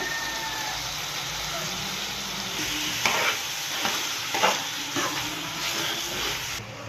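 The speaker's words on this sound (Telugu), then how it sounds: "ఇప్పుడైతే లైట్గా కొంచెం కరివేపాకు వేసుకోవాలి" Curry leaves crackle and sizzle in hot oil in a frying pan for an egg and prawn curry, a constant frying hiss broken by stirring scrapes in the middle seconds.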